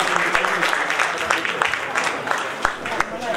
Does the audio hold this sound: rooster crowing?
no